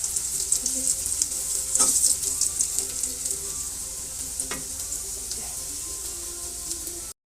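Fish pieces frying in a pan of oil, a loud continuous hissing sizzle with a few brief clatters, close by.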